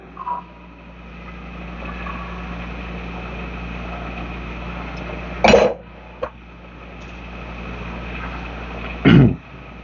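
Two short, sharp coughs break through a steady low engine hum, several seconds apart, with a faint knock between them.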